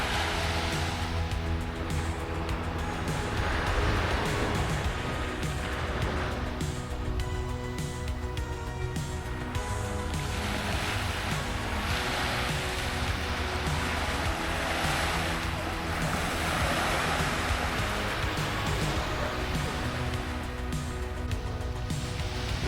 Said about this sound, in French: On entend juste le bruit des petites vagues